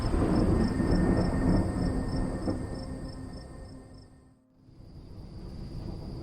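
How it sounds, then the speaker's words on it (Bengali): A thunderstorm sound effect in a Bengali horror audio story: a continuous, rough storm roar with rumbling thunder. It briefly dips almost to silence, then surges back at full strength. "বুঝলো ঝড় উঠবে, ভয়ঙ্কর ঝড়।"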